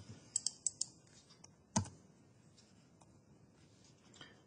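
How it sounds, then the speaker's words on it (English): A command being typed on a computer keyboard, a quick burst of faint close key clicks followed by one louder keystroke and a final soft tap in a quiet room. "We need to type ifconfig"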